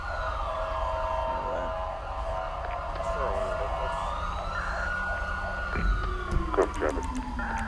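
A fire engine siren in the GTA FiveM video game wails with rising and falling sweeps, approaching under engine rumble, with a horn-like blast and clatter near the end.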